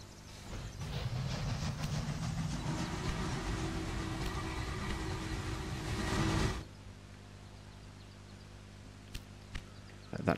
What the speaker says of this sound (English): Let that train go through.